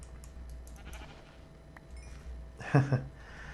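A single short bleat from a sheep in modded Minecraft rises near the end over a low, steady background hum, with faint scattered noises before it.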